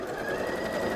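A sewing machine stitches an outdoor pillow in a steady, close whirring run with no pauses.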